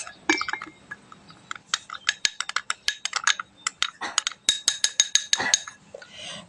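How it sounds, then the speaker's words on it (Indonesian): A metal spoon scoops sago flour into a glass cup, making a rapid series of sharp, close clinks and taps that speed up into clustered bursts, with no talking. "kemudian kita bisa tambahkan 2 sendok tepung sagu ke dalam gelas"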